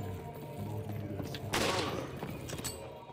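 Gunfire in Resident Evil 4 on the Wii, a burst of sharp shots clustered midway through amid game noise, with talk layered over it.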